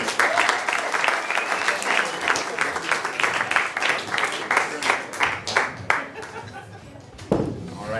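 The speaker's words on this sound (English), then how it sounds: "Give him some applause as he comes back in." An improv comedy show audience applauds loudly and steadily as a performer comes back into the room, a dense clatter of many hands with a few sharper claps near the end and faint chatter underneath.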